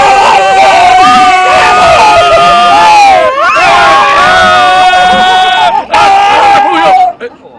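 An audience at a private gathering of words, music and theatre shouts loudly in several bursts of overlapping, tonal voices, with brief drop-outs between the outbursts.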